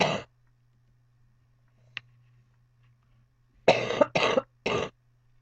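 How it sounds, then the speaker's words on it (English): A cough at the start, then a tiny click, followed by a burst of three harsh coughs in quick succession over a low steady hum. "Okay, so I coughed and got something to drink"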